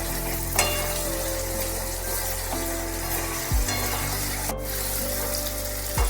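Turmeric stirred into hot oil in a pan for potato-egg bhujia makes a continuous loud sizzle, with occasional scrapes and knocks of the spoon, no voices.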